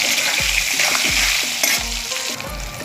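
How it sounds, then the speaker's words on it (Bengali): Potatoes fry in a pan with a loud, constant sizzle, broken by regular scraping strokes of a spatula stirring them roughly every half second. "আলুগুলো ভেজে নেব"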